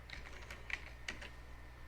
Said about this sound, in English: I'm typing using one hand.